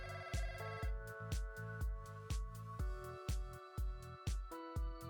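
An activation phone rings in a video game, a bright repeating electronic telephone ring pulsing in a steady rhythm, clear and alone without talk.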